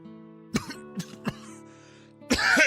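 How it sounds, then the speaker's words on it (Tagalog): Several separate coughs from one person, close and fairly loud, with a rougher burst at the end. No one speaks. "nag-aalala talaga ako dyan sa ubo mo"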